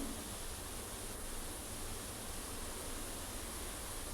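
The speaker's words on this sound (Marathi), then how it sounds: "पाण्याला उकळी आलेली आहे" Water boils in a pot with a steady, broad rushing hiss and a faint bubbling churn, soft and unchanging, and no voices.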